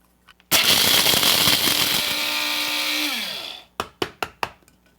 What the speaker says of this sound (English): dump everything into my coffee grinder here and blitz it up